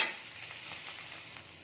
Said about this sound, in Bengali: আলুটা আমি নেড়ে দিচ্ছি